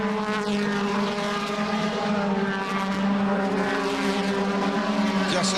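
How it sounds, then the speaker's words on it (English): DTM race car engines at Hockenheim during the first lap of the 2010 season, a loud, continuous roar of several cars with shifting harmonic tones, close and sustained throughout without pauses. "Just listen to the roar of those engines."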